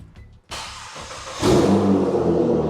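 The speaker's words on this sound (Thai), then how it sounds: "อ่ะเดี๋ยวผมจะให้ฟังเสียงเครื่อง คร่าวๆ อันนี้กดปุ่มตรงนี้นะ" A Nissan GT-R R35 sports car engine fires up with a sudden roar, then revs higher into a loud, sustained growl, close by.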